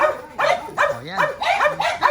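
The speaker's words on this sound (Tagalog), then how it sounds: "Daming aso." Dogs bark in repeated bursts close by, while a voice speaks over them.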